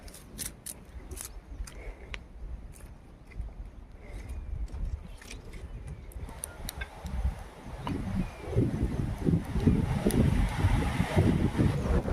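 Wind blowing across an open hilltop in a tribal area, a steady broadband rush that swells and grows louder and gustier in the second half, buffeting the microphone, with faint clicks and rustles and no speech.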